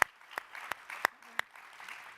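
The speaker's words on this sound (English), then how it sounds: "can we please give all three of our panelists a round of applause again?" A handful of sharp, separate claps ring out for panelists at a mayors' plenary meeting, spaced about a third of a second apart, fairly quiet and sparse rather than a full ovation.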